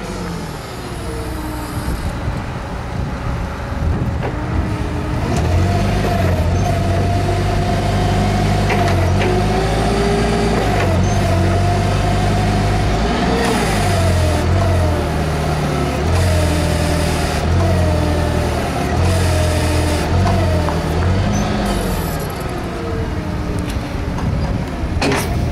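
Propane-powered Taillift FG25 forklift, a 5,000-pound-capacity truck with a triple-stage mast and side shifter, idling steadily with a low engine hum that holds at an even, fairly loud level throughout, with no talk over it.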